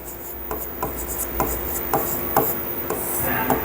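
Chalk or marker scratching numbers onto a board in a classroom lesson, a series of short rubbing strokes in an uneven rhythm, close and fairly clear, with no talk.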